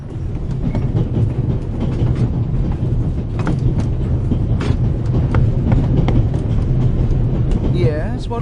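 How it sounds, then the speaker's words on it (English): Steady rumbling clatter of a moving passenger train in The Raven Remastered, a continuous low roar with rhythmic rail clicks running throughout, with voices speaking over it. "The noise on this train is driving me crazy"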